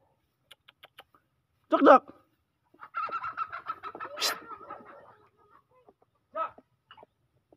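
Chickens cluck and squawk in short bursts, with a louder flurry in the middle and a few scattered clucks around it.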